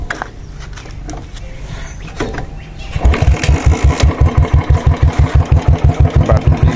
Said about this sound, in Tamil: இப்போ வந்து வண்டியை ஸ்டார்ட் பண்ணி விட்டுருக்கேன்.